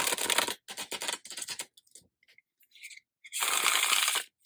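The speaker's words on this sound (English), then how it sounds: "Nope, no problem ruffling these cards. Doing the riffle shuffle in the bridge." Brand-new, slightly stiff tarot cards are riffle shuffled and bridged in several crisp, close bursts of fluttering card snaps with short pauses between them and no talking.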